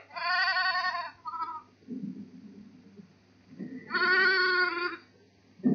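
A sheep farm's flock gives two long, loud harmonic bleats a few seconds apart, with a short bleat after the first. Lower rustling and quieter animal noises fill the gaps on an outdoor farm.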